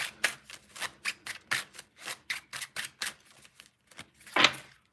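Tarot cards are shuffled by hand in a quick run of crisp riffling snaps, close and fairly loud, ending in a single louder slap.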